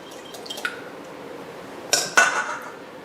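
Metal utensil stirring an egg mix for a crustless Old Bay crab quiche Lorraine, a few light clinks early, then two louder scraping clinks against the bowl near the end, close, no talking.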